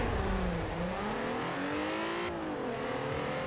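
A Nissan Silvia on a drag race run accelerates hard through the gears, engine note climbing steadily with a brief dip at each shift, heard from inside the car at moderate volume with no talking.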